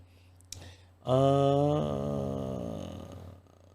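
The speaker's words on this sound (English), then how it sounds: "Sorry for yawning" A person lets out a long, voiced yawn up close, rising sharply and then sliding down in pitch before trailing off over about two and a half seconds, with a small click just before it.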